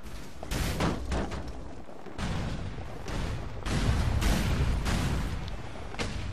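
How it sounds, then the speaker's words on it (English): Cars blowing up one after another in GTA IV with a mod, a series of booming explosion bursts and slams going off in quick, irregular succession over a constant rumbling game background. "you hear the explosions going off all over the place because wherever my player's moving, it's just exploding cars all over the place"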